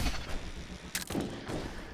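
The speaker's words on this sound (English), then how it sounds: "let me just test the demo cannon a little bit more" A demo cannon firing in the video game Meet Your Maker, a couple of sharp booming blasts with a crackling burst at the midpoint, loud and close with no talking.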